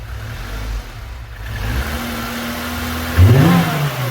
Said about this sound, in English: Rev it up some more.